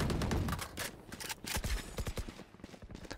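Rapid bursts of video game gunfire crackle in uneven clusters, loud and close, with sharp impacts scattered across the clip and no voices over them.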